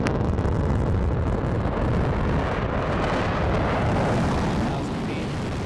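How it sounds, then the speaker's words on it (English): A Blue Origin rocket booster's engine relights during descent, a dense, continuous roar with heavy wind-like rumble that fills the clip at high volume and eases slightly toward the end. "There's that engine relight."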